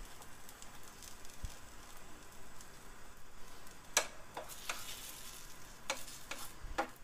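An egg fries in a pan for a spicy geprek dish, a soft steady sizzle with scattered crackles and sharp pops, close and moderately quiet, with no talking.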